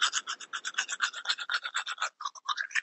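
A toothbrush scrubs back and forth in quick, even strokes, a bright rhythmic scratching repeated about a dozen times, close and fairly soft, with a brief pause before it resumes.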